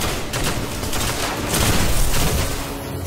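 Dense, rapid gunfire and blasts in the Destiny video game roll together into a loud, sustained barrage, with a grenade explosion swelling the din near the middle.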